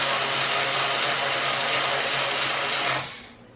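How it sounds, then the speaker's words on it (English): A power drill drives screws into a model aircraft float. It makes a continuous, fairly quiet whir for about three seconds and then spins down, and no one speaks. "now normally you would not want to use a drill"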